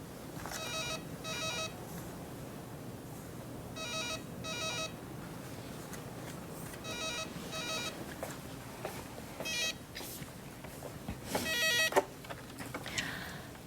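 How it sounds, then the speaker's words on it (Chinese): A desk telephone rings in a newspaper office, giving several repeated electronic ring bursts in pairs with pauses between them over a low room hum, followed by a few brief beeps and clatters. "电话响了"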